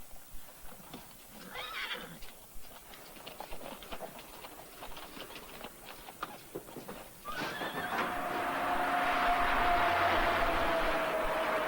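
Wild horses neigh and whinny while their hooves clatter and shuffle as they are driven up a ramp into a truck, followed by a louder rumbling clatter as they move inside.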